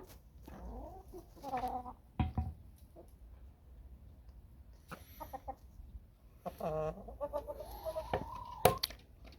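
Hens cluck and call in short bursts at close range inside a chicken coop, with a rooster-like crow rising near the end amid scattered rustling.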